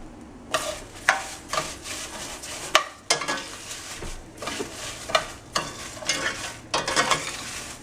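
Dry basmati rice for oil-free Spanish rice toasts in a dry skillet, stirred with repeated scraping strokes and a light rustling sizzle, close up with no voices.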